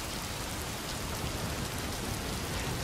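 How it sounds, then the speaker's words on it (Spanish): Heavy rain pours down steadily in a dense, even wash of noise, with no pauses and no voices. "Llueve a lo bárbaro. Llueve a cántaros."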